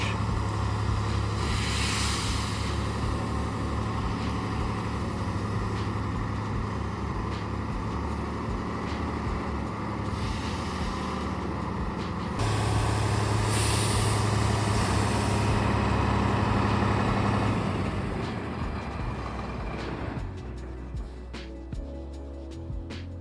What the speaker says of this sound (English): here I'm backing it up into the garage